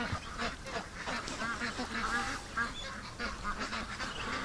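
A flock of ducklings, including a young Muscovy, gives off continuous overlapping peeping and soft quacking calls at close range, busy and chattering throughout.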